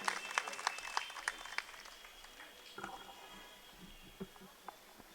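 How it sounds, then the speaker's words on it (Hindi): Scattered clapping from a crowd at a BJP rally for a political leader, fairly faint and thinning out after the first couple of seconds into sparse claps. "जोरदार तालियां हमारे राष्ट्रीय महामंत्री जी के लिए।"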